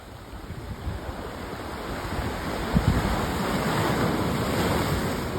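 Ocean waves break and wash in a steady, full roar that swells slightly midway, close and loud with no voices.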